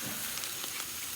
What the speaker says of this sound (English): That butter is getting hot right there